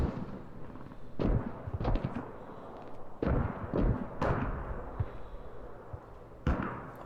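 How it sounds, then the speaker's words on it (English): Distant booming mortar explosions and bursts of rapid machine gun fire crackle across a battlefield in the video game Squad, irregular thuds echoing at moderate volume. "All you can hear so far is just mortar explosions, machine gun fire."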